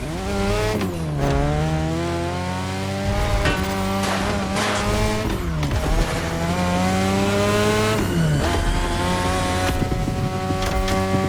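A car in The Crew Motorfest drifts through sharp turns, its engine revving loudly and continuously, pitch rising and falling with each shift, while tires squeal through the corners.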